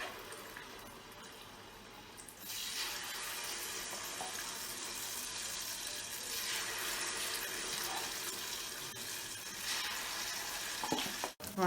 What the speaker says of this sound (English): can see the akara frying in the oil.